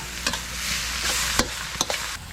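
Three packs of instant noodles with egg and shrimp stir-fried in a full pan, a steady sizzle with the scrape and clatter of the spatula tossing them in repeated strokes, close and alone.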